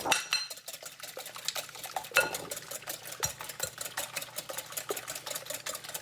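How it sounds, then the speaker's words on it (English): Three eggs beaten briskly with a fork or whisk in a bowl for an omelette, a quick steady run of clicking, scraping strokes against the dish, close and fairly loud with no talking. "And start to beat the eggs."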